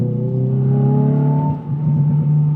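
A Hyundai i20N hot hatch accelerates under sustained throttle, its engine note climbing steadily in pitch, then briefly dipping as if shifting before rising again, close and loud with no talking.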